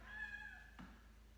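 A house cat gives a single drawn-out meow, fairly close but soft, during a calm indoor stretching session; a faint low hum sits underneath and no one talks over it.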